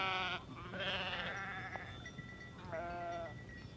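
Several sheep bleat in turn, wavering cries close by, with a faint outdoor background and no talking.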